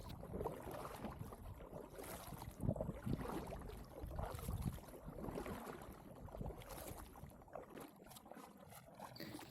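Kayak paddling on the slow, nearly currentless Tahquamenon River, faint soft water splashes and drips from paddle strokes in an irregular rhythm, with light wind noise.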